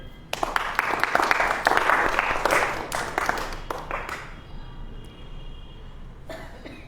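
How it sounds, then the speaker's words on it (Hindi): A church congregation clapping together during a sermon, a burst of dense applause that rises, holds for a few seconds, then thins out, with a cough and faint murmuring afterward. "ताली बजाओ।"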